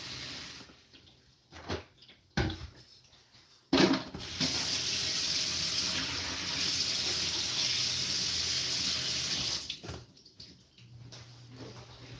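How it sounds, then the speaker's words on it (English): Water from a kitchen tap runs steadily into a Brita filter jug for several seconds after a few short bursts, then cuts off; loud and close, with no talking. "fill up the Brita water filter"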